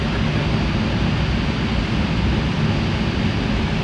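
A Boeing 737-800 in Flight Simulator 9 lands on runway 05 at Madeira, giving a steady, loud roar of engine and wind noise that stays constant throughout.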